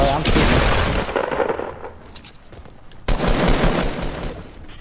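Loud rapid gunfire from a player's weapon in a video game rattles in dense bursts, breaking off briefly before a second burst, with voices talking over it.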